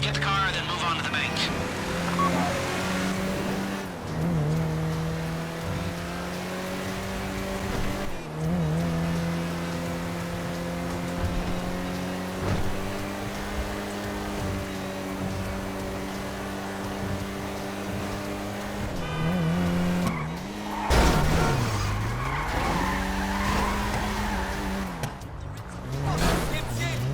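A car drives through GTA Online's Fleeca Bank Heist with a loud, steady engine drone, rising and falling revs, and tire skids near the end, while people talk over it.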